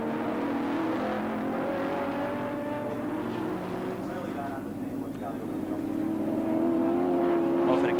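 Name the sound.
race cars on track, Mazda RX-7 and Holden Commodore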